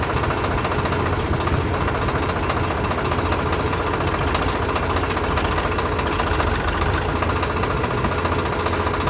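A tractor engine runs close by, a loud, steady rumbling drone with a faint knocking throb, constant throughout with no voices.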